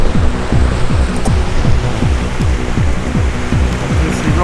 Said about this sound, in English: And here is the River Plym.